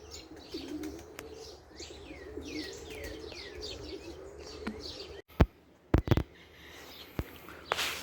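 Turner roller pigeons coo in a soft, repeated rolling murmur with light chirps nearby, followed by several sharp knocks and clatters near the end.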